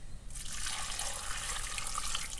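Vegetable soup stock, seasoned with mild paprika, is poured over ingredients in a pot, a steady splashing liquid stream that starts abruptly and continues evenly, close and fairly loud with no talking.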